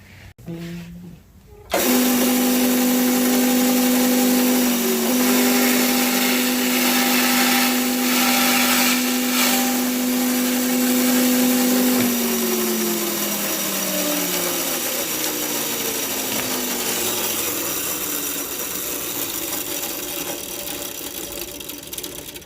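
A Robinson chain and chisel mortiser cuts a haunched wood joint, its motor starting abruptly into a loud, steady whine that holds for about ten seconds and then winds down in pitch, with broadband cutting noise throughout.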